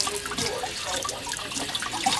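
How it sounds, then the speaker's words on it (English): Water splashes and runs continuously onto car drum brakes being washed out, a close, steady spray with bubbling and dripping textures. "I've watered my drums."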